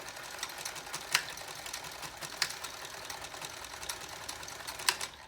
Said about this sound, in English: a stitch back and forth inside that seam line, so that hopefully it's not noticeable